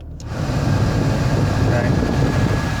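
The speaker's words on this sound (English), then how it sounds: "Climate control, heat blows hot, AC blows ice cold." Steady blowing of the air conditioning fan in a 1996 Jeep Cherokee with 11,000 original miles, a loud continuous whoosh of air filling the cabin without a break after a brief switch-on.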